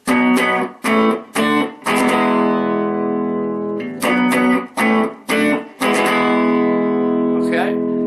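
Electric guitar strums open chords in short rhythmic bursts with brief gaps, alternating between open D and open E shapes, loud and close.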